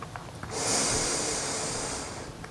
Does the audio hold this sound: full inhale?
yes